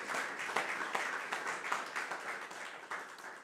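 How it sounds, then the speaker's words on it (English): A round of applause for the executive team at a company annual general meeting. It is a steady, fairly quiet patter of many hands clapping that continues for several seconds with no voices over it. "I would appreciate your giving the executive team a round of applause."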